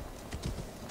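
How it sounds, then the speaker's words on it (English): Horse hooves clip-clopping in the video game Assassin's Creed Valhalla, a brief, steady run of soft thuds against a busy game background. "Let's go, Horsey. You can do it."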